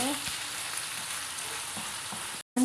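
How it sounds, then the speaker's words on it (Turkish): Minced meat frying in oil in a pan for içli köfte, a steady close sizzle running throughout with faint stirring scrapes and a brief cut near the end. "Önce tabii kıymamızı güzelce kavuruyoruz yağda."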